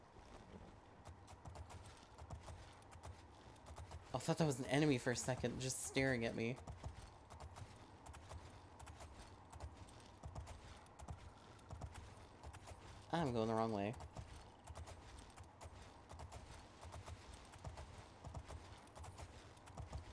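Horse hooves in a video game clop in a steady rhythm for the whole stretch, fairly faint, with someone talking over them in two short bursts.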